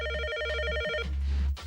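Old telephone rings with a single bright electronic trill lasting about a second, then fades into a short pause and faint room noise.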